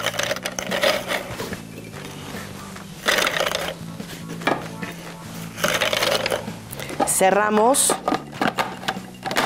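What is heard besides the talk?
food processor crushing cookies at high speed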